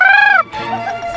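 A hen calls in a forest: a loud, close, drawn-out tonal cry followed by quicker, lower clucking.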